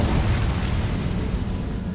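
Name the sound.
Incendio fire spell in video game Hogwarts Legacy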